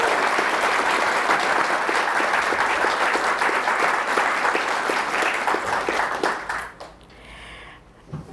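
An evening talk audience in Washington welcomes New York Times journalist David Barstow with steady, full applause that holds for about six seconds and then fades out.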